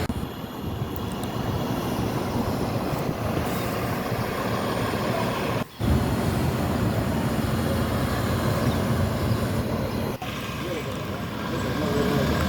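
A double-decker bus's large diesel engine rumbles steadily as it pulls away from a bus terminal in Solo, Indonesia, with a brief break midway and the drone continuing loud and close.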